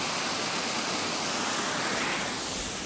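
A waterfall beside the steep Kinsman trail on the Appalachian Trail roars as a constant, dense rush of falling water close by, with no voices.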